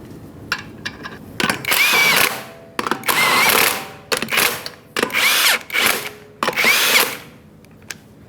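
A power tool runs lug nuts onto a Ford F-150 wheel in several loud, close bursts of whirring with short pauses between them, and no talk.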